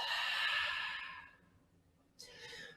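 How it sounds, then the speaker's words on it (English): A deep, breathy exhale pushed out through an open mouth during a yoga breathing exercise, loud at first and fading over about a second and a half, followed by a softer breath after a short pause. "And open your mouth, exhale it all out."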